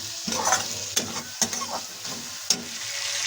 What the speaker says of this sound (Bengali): এবার মশলাগুলো সব ভালোভাবে ভেজে নেব।